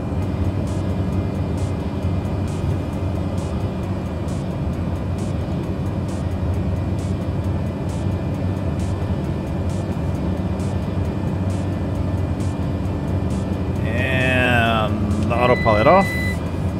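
The engine of the Black Square Cessna 208B in MSFS 2020 video game drones steadily, a constant cockpit hum with a faint regular ticking, while a voice talks over it near the end.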